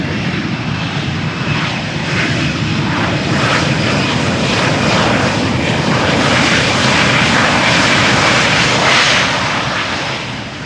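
Lufthansa CRJ regional jet landing at Amsterdam Schiphol with thrust reversers engaged, a loud, steady broadband roar of jet engines that holds for about ten seconds and eases slightly at the end, with no talking.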